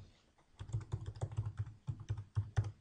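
Typing on a computer keyboard: a quick, close run of soft key clicks with an uneven rhythm and short pauses, heard alone.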